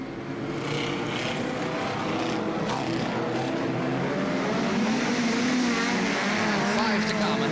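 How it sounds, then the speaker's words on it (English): Hot rods and rallycross cars race on the Wimbledon oval in 1976, a continuous loud roar of several engines with no break across the stretch. "The Rallycross representative on the outside is the car number 10, Bruce Bamber"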